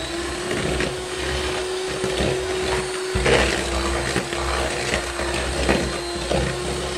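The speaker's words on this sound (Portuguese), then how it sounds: "Vamos bater o açúcar, a gema e a manteiga nessa daqui agora." An electric mixer beats sugar, egg yolk and butter in a bowl, giving a steady close whirring motor whine with a faint grinding rattle that holds for the whole stretch.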